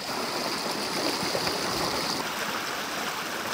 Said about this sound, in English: It's pretty much all runoff right now.